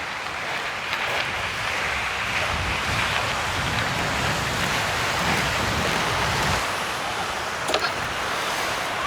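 Rough high-tide surf at Kailua Bay in Kailua-Kona makes a constant broad roar, blended with wind rushing past the microphone, steady and fairly loud with no voices.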